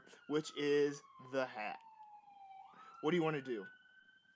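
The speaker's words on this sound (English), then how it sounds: "Sorry for the siren." A siren wails in steady rising and falling tones under and between close conversational talk.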